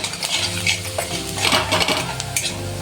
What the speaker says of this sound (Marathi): त्यामध्ये टाकूया हळद, लाल तिखट, हे परतून घेऊ।